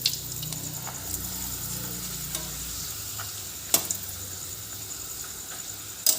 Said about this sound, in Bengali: এই পাঁপড় বেশিক্ষণ সময় লাগে না ভাজতে